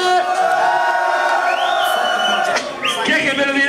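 A club crowd at a pop party night cheers and makes noise, loud and sustained, a dense wash of voices over music with rising whoops and shouts.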